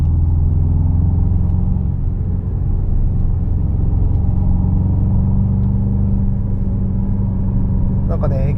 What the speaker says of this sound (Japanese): なんかねエキゾーストの音が心地いいサウンドでいいですね。